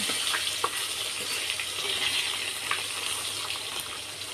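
Steady crackling sizzle of fish frying in a hot pan, continuous and fairly close, with occasional sharper pops.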